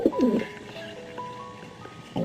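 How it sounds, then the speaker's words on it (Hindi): Pigeons cooing on a rooftop, a few soft throaty coos close by, with a clear burst at the start and another at the end and quieter sounds between. "तभी मुझे छत के ऊपर कुछ कबूतरों के आने की आवाज़ आई।"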